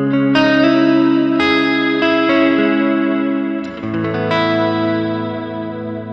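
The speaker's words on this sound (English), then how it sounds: "It's pretty good reverb. Trails on really nicely." Electric guitar played through effects pedals with heavy reverb, strummed chords that ring out and trail into long, lush, shimmering washes, each new strum layered over the fading tail of the last.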